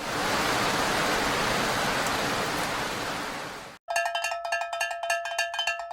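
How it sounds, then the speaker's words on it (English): Fake rain plays as a dense, steady hiss for nearly four seconds and then cuts off abruptly. Bright, ringing cowbell-like chimes follow in a quick rhythm. "That was fake rain."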